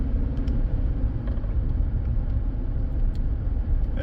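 A 2015 Chevrolet Silverado pickup shudders with a heavy, continuous low rumble while driving, a steady loud vibration throughout with no speech over it.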